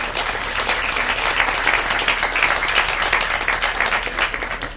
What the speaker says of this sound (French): on peut les applaudir effectivement